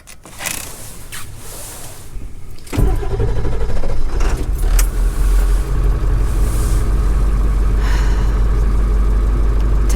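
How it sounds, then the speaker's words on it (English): A 2000 Ford F350 pickup after a brake job: quiet clicks and movement, then the engine starts and settles into a loud, steady low rumble that continues as the truck moves off. "Test drive after the brake job."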